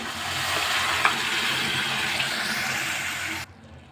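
Lentils go into a pot of onions cooking with turmeric for green chilli sambar, producing a loud, steady close sizzle with stirring that cuts off sharply near the end.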